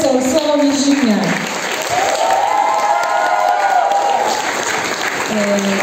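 Concert audience at a Valentine's choir performance in Bolesławiec clapping and cheering, a lively full applause with a sung or sustained melodic tone running through it.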